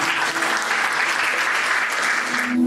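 A church congregation at a live worship service applauds with dense, sustained clapping that holds at a loud, even level before it cuts off abruptly.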